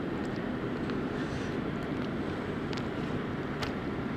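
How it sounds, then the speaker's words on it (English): Steady, low wind rumble buffets the microphone on a sailboat near a container terminal with cranes, forming a constant broadband roar with a few faint ticks layered on top. "There's some wind there."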